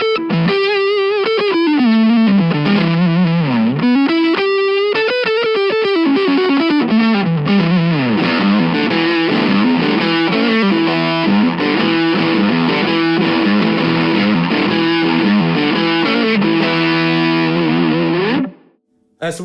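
An electric guitar runs through a Yamaha THR amp modeler on a Class A setting, loud and heavily distorted, with bending, sweeping melodic lines over sustained chords. It ends with a short drop-off.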